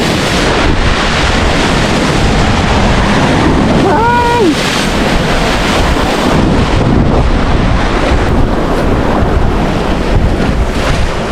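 Steady, loud wind at a flood control project on Sibuyan Island, Romblo, buffeting the microphone throughout, a constant broadband roar with a brief whistling tone partway through.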